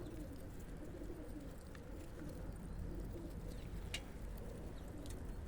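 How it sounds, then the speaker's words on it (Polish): Soft, low pigeon cooing drifts along in the background, steady and quiet, with a few faint higher chirps on top and no talking. "Fajne gołębie Mirek ma."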